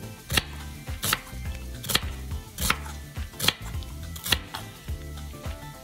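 A knife chops an onion into thin slices on a cutting board, with sharp, evenly spaced thuds about once a second, close and clear with no talking.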